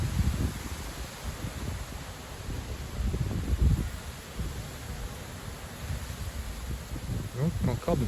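Strong coastal wind gusts buffet the microphone with a continuous low roar, surging loud around the middle and again near the end, with sand blowing in the gale.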